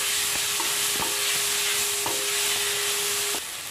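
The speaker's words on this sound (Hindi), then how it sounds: "और आलू ऐड करने के बाद इसको भी हम थोड़ा सा चलाते हुए भून लेंगे अच्छे से।" Grated raw potato frying in a pan while being stirred, with a continuous sizzling hiss and several sharp spatula knocks and scrapes against the pan.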